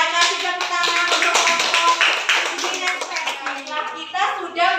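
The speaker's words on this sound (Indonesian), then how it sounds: "kasih tepuk tangan untuk" Children in a classroom clap together in a brisk, lively burst of applause, many quick hand claps near and loud, with a voice briefly speaking over them.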